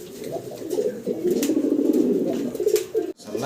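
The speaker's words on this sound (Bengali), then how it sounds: "ইয়েলো কালারের এক পেয়ার বোম্বাই কবুতর দেখাচ্ছি।" A pair of large yellow Bombay fancy pigeons coo steadily and close by, low warbling calls rolling on throughout with a brief break near the end.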